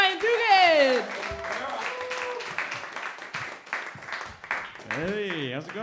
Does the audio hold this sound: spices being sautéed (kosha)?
no